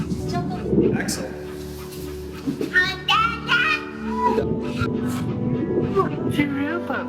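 A dog in the game That Dragon, Cancer whimpers and gives short yips and barks over a steady ambient music bed, fairly close and moderately loud, while a voice speaks briefly.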